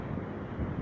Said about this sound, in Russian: Сильный ветер здесь